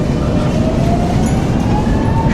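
A Singapore MRT metro train runs at speed, a loud steady rumble and roar of wheels on rails heard from inside the carriage, with a faint tonal whine rising through it and no talk.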